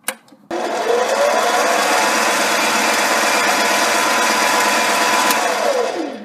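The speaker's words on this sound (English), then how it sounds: "I have my number 0 center drill in place, and I'm just going to put a tiny dot of a hole in the center there" Mini lathe spinning up and running steadily while a number 0 center drill spots a tiny starter hole in the end of brass stock; a loud, even motor whine holds for several seconds after a brief start, with no talking.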